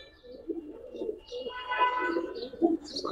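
Giribaz pigeons coo softly at close range, with several low, throaty coos overlapping in a quiet setting.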